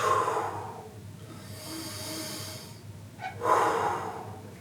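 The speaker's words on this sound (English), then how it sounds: "Nice deep breath in and out" Deep breathing during a yoga class: a long audible exhale at the start, a quiet pause, then another full, breathy inhale and exhale, close and clear.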